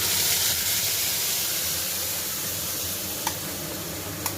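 Spices sizzling in hot oil in a pan while paneer kosha cooks, a continuous bright hiss with a couple of sharp spatters near the end, no talking.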